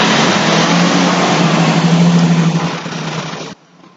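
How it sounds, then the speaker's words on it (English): A beer truck drives past close by, a loud, steady engine roar with broadband road noise lasting several seconds before cutting off sharply. "In just a second, there's a truck coming. It's a beer truck, so just give it a second."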